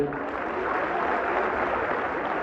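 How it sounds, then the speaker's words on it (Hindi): An audience at a Hindi poetry gathering claps in steady, continuous applause that fills the whole stretch evenly. "ताली बजा दीजिए"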